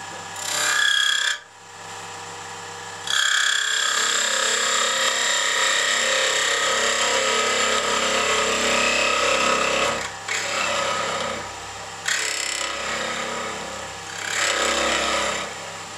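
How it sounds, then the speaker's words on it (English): A wood lathe turns Russian birch against a big lathe knife, giving a loud, sustained whirring scrape with harmonic whine. It cuts out briefly a few times, then resumes, and no one speaks. "So this is the big lathe knife."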